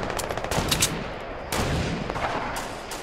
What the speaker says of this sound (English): No, it's a sniper.